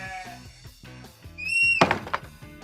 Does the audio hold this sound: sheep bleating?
yes